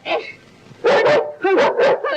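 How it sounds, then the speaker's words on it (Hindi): A dog in a restored 1942 Hindi film barks in a rapid string of loud, close bow-wow yaps, about five barks after a brief opening yip. "ये कुत्ते को बुलाओ"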